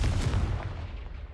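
A Confringo blasting spell explodes in a Hogwarts video game, a loud, close, rumbling boom that fills the low end and decays over about a second.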